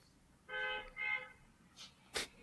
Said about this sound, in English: You could literally hear the cars honking in your background.